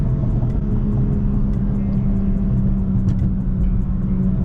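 A BMW G82 revs hard while spinning out, a loud continuous engine roar with a steady low drone and faint ticking above it.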